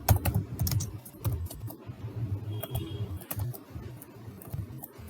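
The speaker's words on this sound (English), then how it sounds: "I'm typing my name." Fingers typing a name on a computer keyboard in a text editor, a quick irregular run of close, soft clicky keystrokes with a few brief pauses, no voices.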